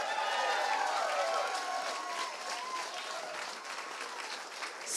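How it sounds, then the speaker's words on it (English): A room full of people applauds Bob at a political gathering, dense clapping that starts strong and gradually thins while faint voices and cheers mingle underneath. "So big round of applause for Bob."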